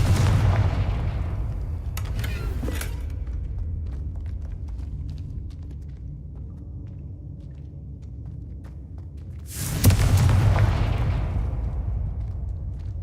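Confringo blast spells exploding in the Hogwarts Legacy video game: two heavy booming blasts, one at the start and another near the end, each with a loud burst and a long rumbling decay, no talk between them.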